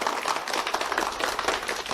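Warm applause from an audience greeting a company CEO and guests, a dense, steady patter of many hands clapping throughout a short burst.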